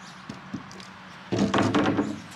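The wooden top of an engine crate comes off, with a couple of soft knocks first and then a burst of close, scraping, clattering wood handling.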